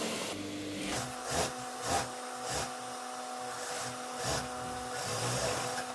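A sewing machine stitches the shoulder seam of a gown, about half an inch in from the edge, with a steady mechanical whir broken by several louder bursts as it runs in short stretches, close and without talk.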